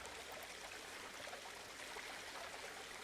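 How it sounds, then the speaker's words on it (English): Water falls through a gap in a theme park built in the Planet Coaster video game, a soft, continuous rushing trickle that stays even and faint throughout with no talk over it. "So look, you've now got water falling through."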